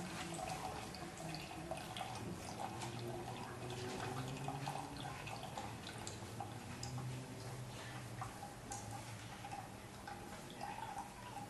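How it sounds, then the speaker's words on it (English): Water drips from the bottom of a Pythagorean cup as it drains, a steady run of small ticking drips against a faint running-water background, close and quiet, with no talking. "the water will start dropping from the bottom."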